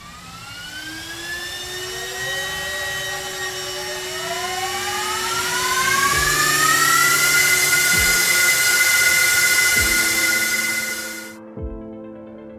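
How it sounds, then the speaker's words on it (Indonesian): A Gigabyte R183 S92 rack server with 4th Gen Intel Xeon processors powers on, its cooling fans whining upward in pitch as they spin up to a loud, steady high-speed roar, then cutting off abruptly near the end. "Dan sekarang, mari kita nyalakan server ini."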